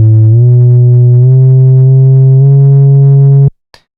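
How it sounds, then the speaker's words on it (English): A Korg MS-20 Mini's self-oscillating low-pass filter rings out as a loud, pure sustained tone, pitch stepping slightly a few times, then cutting off abruptly, followed by a brief click. "self-oscillating low-pass filter"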